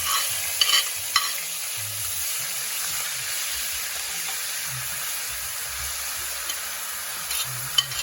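Chopped onion fries with seeds in a hot pan for a curry, giving a continuous close sizzle and hiss broken by the soft scrape and clatter of stirring.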